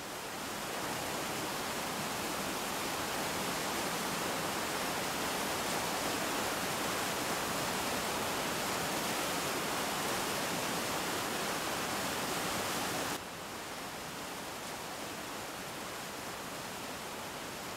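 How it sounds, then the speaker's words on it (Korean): Waterfall water merging with hot spring flow in a volcanic spring valley, a dense, steady roar of rushing water, constant and fairly loud, dropping slightly in level toward the end, with no voices. "폭포수와 뜨겁게 샘솟는 온천수가 합쳐지면서 봄의 계곡은 더 넓어지고 깊어진다."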